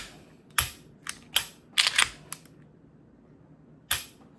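A Taurus G2C 9mm pistol handled and dry fired: a series of sharp, close mechanical clicks and snaps of the slide and trigger, spaced irregularly over a quiet room, with no talk.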